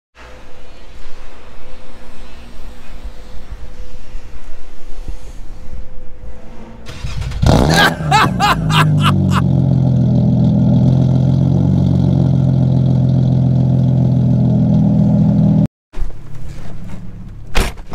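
Nissan Maxima with a worn-out muffler sits running near the microphone: a low engine hum, then a burst of clunks and rattles before a loud, steady exhaust drone that drops out briefly near the end.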